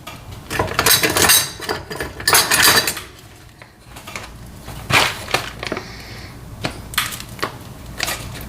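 Scissors cut open a foil-lined bag of roasted coffee at close range, with crinkly crunching, snipping and rustling in irregular bursts and brief pauses.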